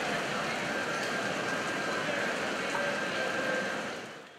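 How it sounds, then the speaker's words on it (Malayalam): Steady rain pours at Sabarimala Sannidhanam, a dense continuous hiss that holds evenly and then eases off near the end. "സന്നിധാനത്ത് മഴ വിരുന്നെത്തി"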